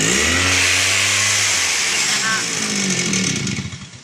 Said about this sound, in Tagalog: Kaya pala maingay mga kailos ng ating ano, grass cutter kasi naputol yung kanyang spring sa clutch